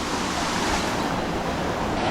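Rushing water from a waterfall and natural mini springs at a clear mountain pool, heard as a steady, loud, broadband wash that fills the whole clip with no voices.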